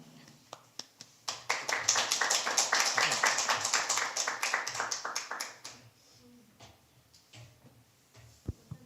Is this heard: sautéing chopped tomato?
no